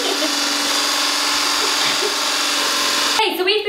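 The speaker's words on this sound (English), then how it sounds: "Make sure you have an electric whisk for this, guys, because meringue type... formulas are never gonna work with" An electric whisk beating macaron meringue gives a loud, continuous motor whine that holds steady close up, with voices talking over it and a brief change in tone near the end.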